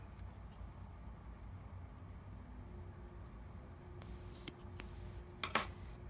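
A few brief snips of scissors trimming the ends of waxed Brazilian cord for a beaded bracelet, coming near the end over a steady low background hum.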